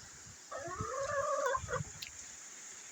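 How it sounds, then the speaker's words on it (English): Chickens roaming around looking for food give off a short run of soft clucks at middle distance over a steady background hiss. "We have chickens here. They're roaming around looking for food."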